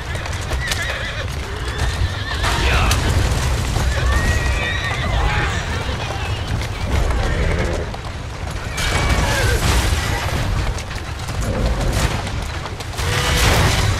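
A horse in the video game Assassin's Creed Syndicate neighs and whinnies repeatedly while hooves clip-clop, mixed with rumbling and mechanical game sounds at a moderate level.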